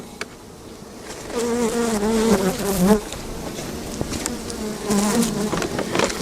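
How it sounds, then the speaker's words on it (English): Honeybees buzz close by in a dense, wavering drone that swells and fades, with occasional knocks and handling sounds. "Good bunch of bees in here."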